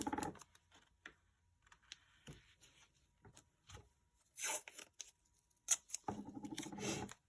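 Painter's tape pulled off a roll and torn in short crisp rips and scratchy bursts, several separate pulls spread over the span with quiet gaps between, close and fairly loud.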